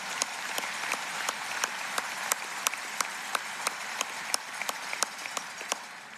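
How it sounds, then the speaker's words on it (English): A graduating class at a university commencement applauds, a steady wash of clapping with sharp individual claps standing out, fairly distant and even throughout. "give yourselves a round of applause for that"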